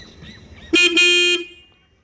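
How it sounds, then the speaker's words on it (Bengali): Horn of a Royal Enfield Hunter 350 motorcycle gives one loud, steady honk of about half a second with a brief break near the start, close by, then fades out, with no talk over it. "হর্ন প্রচণ্ড লাউড মানে যথেষ্ট লাউড"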